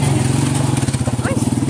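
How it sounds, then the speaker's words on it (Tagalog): A motorcycle rides a rough road, its engine close and loud with a fast, throbbing pulse and some rattle throughout the short stretch. "Meron pang motor na parang karagkag naman ito"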